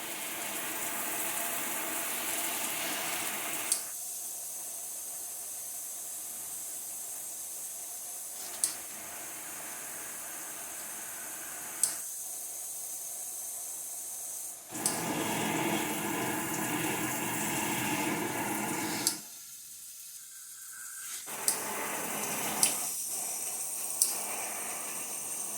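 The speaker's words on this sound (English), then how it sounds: "Here are the 6 different spray patterns of the shower head." A Glacier Bay six-way handheld shower head sprays water through its different patterns, a constant close rush whose texture changes in distinct blocks, with faint clicks as the setting dial is turned between them.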